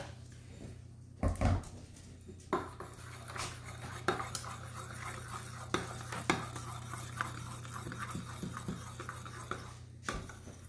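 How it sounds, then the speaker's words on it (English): A spoon clinks and scrapes around a bowl as a quarter cup of mayo and a tablespoon of sriracha are mixed into a pinkish-orange sauce, with irregular taps and knocks over a steady low hum. "Mix that in nice and thoroughly."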